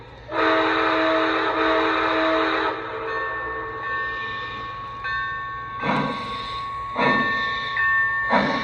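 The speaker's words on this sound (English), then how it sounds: "Train is in motion." A Chesapeake and Ohio 2699 train, an NWCR Century Series locomotive, sets off and rolls. It gives a steady, loud tonal horn-like drone over a low rumble, then several hissing bursts of air near the end.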